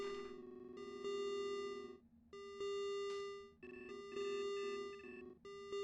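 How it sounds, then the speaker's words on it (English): Electronic alert tones beep in repeated bursts during an Ostranauts spacecraft game session, warning of low cabin pressure; steady tonal beeps with short gaps and a pitch change, clear and alone without speech. "low pressure alert."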